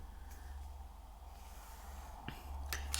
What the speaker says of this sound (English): She snores when she leans on things on her throat.